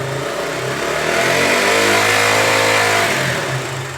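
A KTM Duke motorcycle engine revs up from idle, its loud, steady roar climbing in pitch and holding high before easing back down, close and continuous with no talk.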